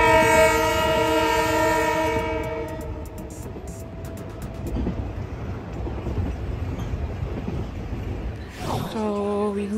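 A passenger train on the Ghana railway sounds a long loud horn, then rolls with rumbling wheels and rhythmic clicks, before another horn blast near the end.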